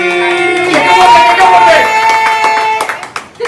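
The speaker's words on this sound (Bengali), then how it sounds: "আরে ছাড়ো, হাততালি দাও" A small group claps at a family birthday celebration, with steady hand claps running under loud, overlapping talk and shouting, close to the listener.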